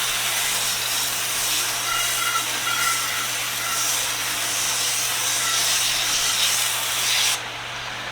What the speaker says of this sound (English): spray this down with some, I believe it's called Easy Off. Easy Off. This is oven cleaner.